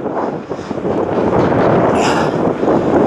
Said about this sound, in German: Der Wind pfeift wieder kräftig hier.